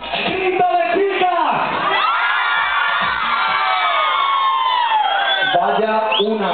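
A crowd of girls at a DJ party in La Roca de la Sierra, Badajoz lets out a loud, sustained, high-pitched scream on cue, dense and continuous with shrill whoops layered throughout.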